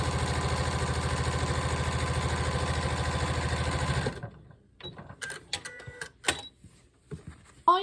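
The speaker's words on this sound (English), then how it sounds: "I'm just going to sew 1/4 inch all the way down" A sewing machine chain piecing quilt block segments hums in a close, steady, rapid stitching rhythm for about four seconds, then stops, followed by scattered clicks and rustles as fabric is handled.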